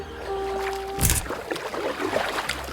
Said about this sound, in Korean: 귀엽고 선장님의 노를 빼서 직접 저어본다